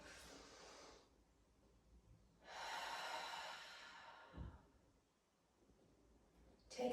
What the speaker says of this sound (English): You can feel your breathing go faster.